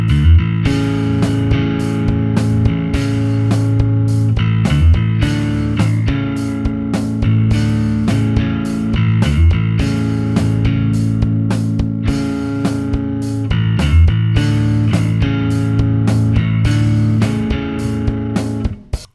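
Bass guitar with a huge distorted tone plays a verse riff, a steady repeating line of punchy notes over a full band track, loud and continuous.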